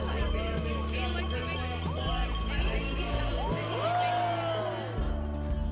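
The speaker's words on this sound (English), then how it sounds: "the crowd cheers will come once the skiers land" Spectators at the Harris Hill ski jump in Brattleboro, Vermont, cheer and whoop as skiers land, a steady, dense crowd roar with rising shouts and possible cowbells throughout.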